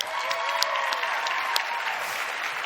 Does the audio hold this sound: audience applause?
yes